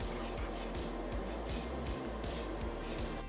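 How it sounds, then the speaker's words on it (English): Aerosol primer sprayed onto a styrene model flag for a restored SIKU V312 VW Porsche 914-6 diecast, a steady close hiss in repeated short bursts with no talking. "With that glue dry, I primer my new flag."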